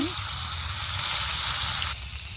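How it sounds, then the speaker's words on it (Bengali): Loud, steady sizzling of turmeric-and-salt-coated fish frying in hot oil in a karahi, close up, with a brief faint clunk at the start and the sizzle shifting slightly near the end. "তেল, মাছ দিলাম তেলের মধ্যে।"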